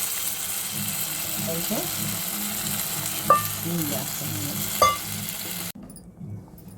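Vegetable pieces being stirred in oil in a pan for a mixed vegetable pulusu, a steady close sizzle with soft scraping and two brief metallic clinks of the utensil, before the sizzle drops away near the end.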